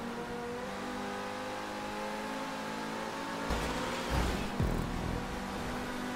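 A T20 supercar in a GTA V Online stunt race, its engine droning steadily at high revs and then surging louder with a brief roar partway through, under a game soundtrack with no talk.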